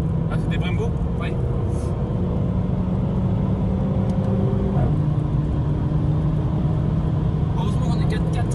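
Car with Brembo front brakes driving and braking hard, a steady close engine and road rumble with tone shifts as it slows, with people talking over it throughout.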